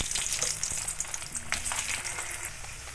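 New potatoes frying in oil tempered with nigella seeds in a wok, a dense, close sizzle crackling continuously with small spattering pops and faint scraping.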